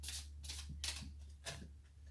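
Soft riffling bursts of oracle cards being shuffled, several quick papery flutters in a row over a low steady hum, close and fairly quiet.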